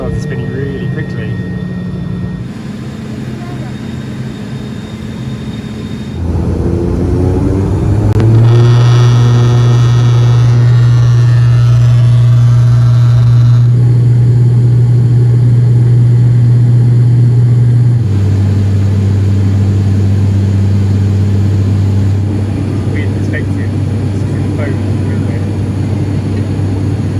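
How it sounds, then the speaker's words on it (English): Sunlight Air propeller airliner engines start and spin up on the runway: a rising whine sweeps upward, then settles into a loud, steady propeller drone with a pitch shift partway through, heard from inside the cabin. "I believe the propellers are about to start spinning. Whoa, that started spinning really quickly"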